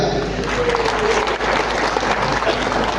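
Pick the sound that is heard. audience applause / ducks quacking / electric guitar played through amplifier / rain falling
audience applause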